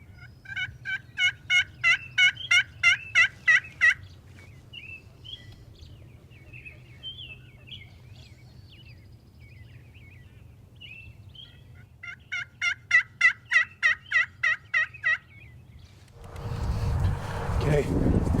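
Wild turkeys gobble during a spring turkey hunt in Ontario, a rapid rattling run of gobbles followed by softer clucks and calls, then another rattling gobble series, with a rustling burst at the end.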